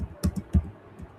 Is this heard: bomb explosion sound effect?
no